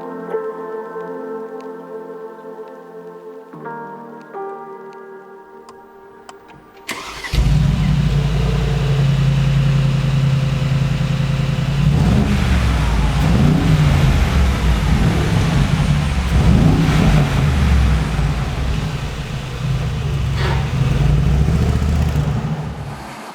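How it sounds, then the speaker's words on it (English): A 2020 Mercedes-AMG G63's 4-liter twin-turbo V8 starts up after a few seconds of quiet tonal music, then idles loudly and steadily with a deep, rumbling burble and occasional light revs, close up and with no talking. "This is the 2020 Mercedes-Benz G63. This has a 4-liter twin-turbo V8 producing"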